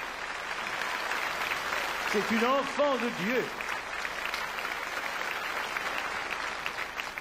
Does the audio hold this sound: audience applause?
yes